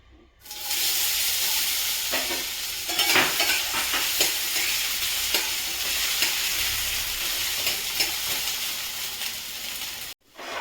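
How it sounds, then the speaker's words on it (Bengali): Potatoes fry in hot oil in a kadai, giving a steady, close, loud sizzle with crackling spatter and light stirring that runs nearly the whole time before cutting off briefly at the end. "এবার আমি আলুটাকে ভেজে নেব"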